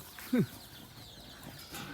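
A single sharp squawk from a startled chicken cuts through a quiet background, followed by faint rustling.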